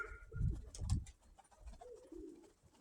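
Pigeons from Mykolaiv coo in a close, soft series of low throaty calls, a couple of stronger coos early followed by quieter murmuring, with no talking.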